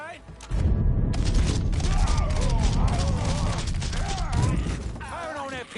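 Gunfire in Mafia III, set in New Bordeaux, sounds as a dense run of loud, rapid shots and booms lasting several seconds, with people talking over it.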